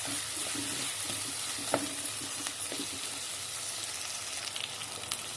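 Green chillies and a ripe tomato fry in a pan with a steady, even hiss of sizzling oil, broken by a few faint taps and scrapes of stirring.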